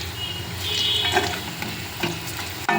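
Onions and cashews frying in oil in a pan for a mushroom curry, a continuous close sizzle with intermittent stirring scrapes and clinks, no talking.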